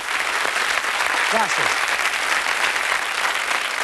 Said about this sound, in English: Give him a round of applause, folks.